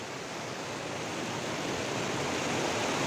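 Water rushing steadily through a full irrigation channel in the hills, a continuous broadband roar of flowing water that holds at an even, close level throughout with no talk.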